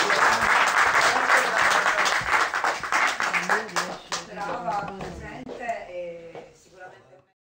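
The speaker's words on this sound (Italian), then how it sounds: "io farei ancora un grande applauso a Giorgia." An Italian book-festival audience applauds loudly and steadily, then the clapping thins out and fades away.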